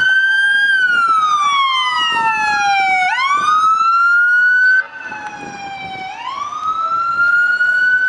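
A loud, electronic police-style siren from a toy police car wails up and down in repeating sweeps, briefly cutting out midway before resuming, with a toy-like tone.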